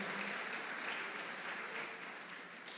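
Steady applause from a church congregation, a dense wash of clapping that holds throughout and fades slightly toward the end, heard at a distance.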